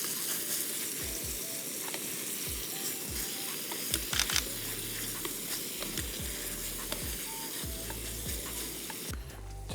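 Breakfast frying in a pan outdoors, a steady close sizzle and crackle with scraping stir sounds and occasional low knocks running throughout, no voices.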